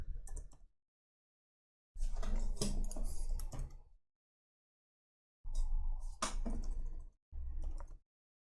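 Someone types a terminal install command on a computer keyboard, delivered as close, quick bursts of key clicks separated by silent pauses.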